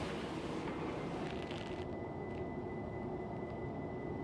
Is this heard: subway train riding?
yes